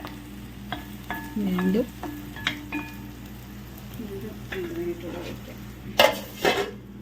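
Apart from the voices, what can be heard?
stirring beef roast frying in pan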